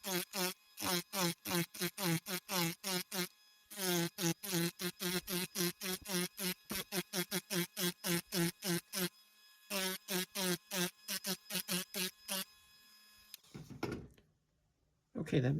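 A power carving tool shaves the front of a wooden hen's head in a fast run of buzzing bursts, each short and evenly spaced with brief pauses between, ending in a rougher, uneven grind before it cuts off.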